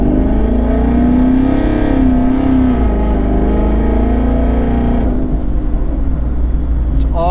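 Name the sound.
twin turbo 2019 Ford Mustang GT engine revving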